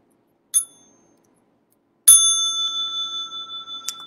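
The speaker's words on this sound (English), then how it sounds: "And I'd like to invite the small bell for stretching and massage." A small meditation bell is struck twice, first a brief ding and then a clearer strike whose bright tone rings on and slowly fades, with a faint extra tap near the end, heard alone in quiet.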